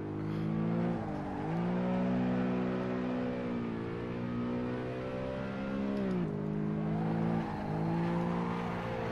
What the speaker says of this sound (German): kurz ein aggressiver Drift hinterher